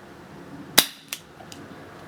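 An Umarex Smith & Wesson M&P 45 CO2 airgun fires a pellet, giving one sharp close crack followed by a fainter impact snap and a small trailing tick, with no talk.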